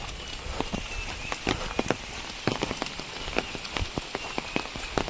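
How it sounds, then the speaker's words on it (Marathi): Heavy, continuous rain in a Konkan village, falling since the previous night on a hard surface, with dense patter and frequent sharp drips and splashes standing out close by. "काल रात्रीपासूनच पाऊस चालू झाला आहे"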